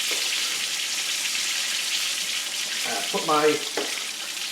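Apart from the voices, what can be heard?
chicken frying in a cast iron skillet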